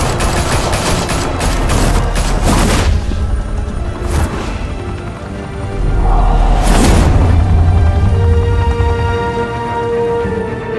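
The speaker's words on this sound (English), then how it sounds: "Open fire!" A loud shootout in the Batman Telltale game, with rapid bursts of automatic fire, sharp single cracks and heavier booms that swell again in the second half, with no talking.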